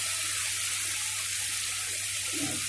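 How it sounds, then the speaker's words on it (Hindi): Water runs steadily into a steel pot sitting on a gas stove in a home kitchen, a constant close splashing rush over a low steady hum, with no talking. "तो अब इसमें हम पानी डालेंगे"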